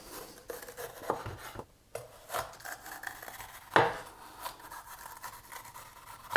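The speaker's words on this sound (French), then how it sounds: "Même traitement pour le poivron, on vient couper des morceaux." A knife cuts a bell pepper into pieces on a cutting board in a home kitchen, giving a series of close, crisp, irregular chops and scrapes with short pauses between them.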